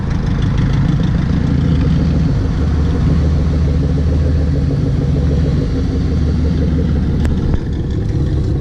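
A car engine idles loudly and steadily up close, a deep rumbling burble throughout with a brief sharp click near the end.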